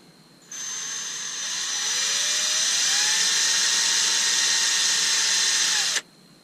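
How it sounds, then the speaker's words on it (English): A power drill whirs steadily for several seconds, its pitch rising then holding as it bores through wood, stopping abruptly. "it doesn't really matter if I drill through the wood"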